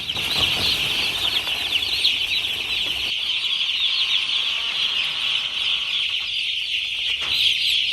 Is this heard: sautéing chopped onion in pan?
no